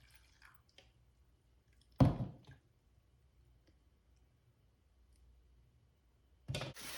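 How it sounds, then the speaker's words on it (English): Homemade oat milk drips through a filter in a kitchen, with faint, scattered drips set off by two short bursts of sloshing liquid against otherwise near-quiet. "I just filter out the oat milk and I fill this one up"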